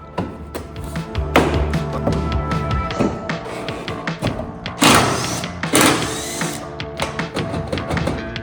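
Car parts are pried off a BMW F30 with a B58 engine during a bumper teardown, with irregular plastic clicks, snaps, taps and a few sharper thuds up close.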